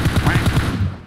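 Rapid automatic gunfire in the mobile battle royale game PUBG Mobile, a dense, steady burst of repeated shots running close and loud for about a second before tailing off.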